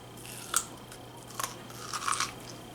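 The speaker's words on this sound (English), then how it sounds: "I'm just gonna come right in and get a nice big old bite." Crunchy bites into elote-style corn on the cob topped with aioli, taco seasoning and bubbly melted cheese: a few sharp crisp crunches close to the mic, separated by brief pauses, with no talk.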